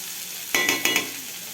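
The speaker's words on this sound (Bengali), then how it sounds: "হালকাভাবে একটু নেড়ে নেব যাতে কাঁচা গন্ধটা চলে যায়।" Momo filling with chopped ginger being stirred in an oiled pan: four quick, close scraping strokes of a spoon over a faint background sizzle.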